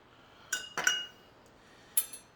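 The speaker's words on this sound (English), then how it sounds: "we're going to add a couple of ice cubes" Ice cubes set with tongs into a cocktail mixer while making an old fashioned: three sharp, close glassy clinks, two quickly together and one a moment later, with no talk.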